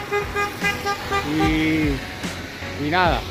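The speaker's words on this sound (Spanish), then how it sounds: "Ahorita se escucharon una bocina sonando" A vehicle horn sounds at the end, short and fairly close, with road traffic and someone talking throughout, beside a vehicle with a flat tire.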